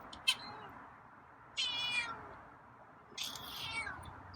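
Scruffy, a feral cat, lets out three separate meows spaced about a second and a half apart, nearby and moderately loud against a quiet room.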